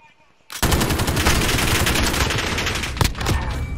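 Sustained, loud automatic gunfire from Call of Duty Modern Warfare starts abruptly and runs as a dense rattling stream of rapid shots, with a sharper burst near the end, heard close up with no talking over it.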